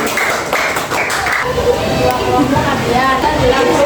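Classroom applause for the second group of students, a busy patter of many hands up close that rises under a voice and blends with the rustle of the room.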